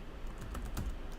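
Fingers type quickly on a computer keyboard, a short run of soft clicking keystrokes close by in a quiet room.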